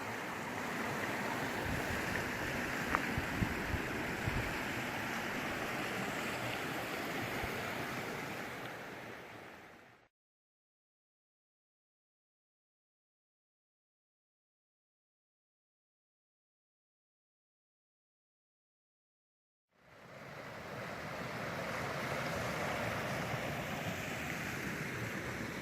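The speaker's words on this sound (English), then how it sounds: "I always enjoy a trail that follows a creek." Water in a creek beside a hiking trail rushes in a steady, broad wash, continuous for a stretch, then gone entirely for several seconds before the same even flow returns.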